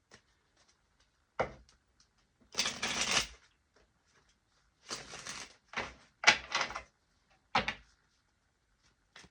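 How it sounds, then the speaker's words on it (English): A deck of cards being shuffled in several separate bursts, each a brief, crisp riffle of flicking cards with quiet pauses between, close and fairly soft. "I'm going to shuffle the deck one more time."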